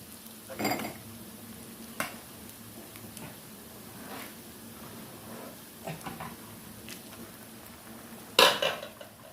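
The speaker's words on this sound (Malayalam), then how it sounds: "നന്നായിട്ടൊന്ന് ഇളക്കി കൊടുക്കാം" Jackfruit is stirred in a cooking pot, with sparse metallic clinks and scrapes of a spoon against the pot over a quiet kitchen background and one sharper clatter near the end.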